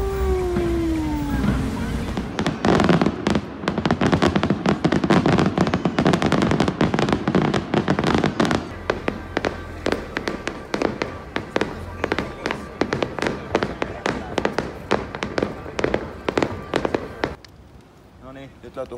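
An evening fireworks display booms and crackles in a rapid, dense barrage of sharp bursts that comes close and loud, then stops abruptly near the end, with a dog-like howl early on.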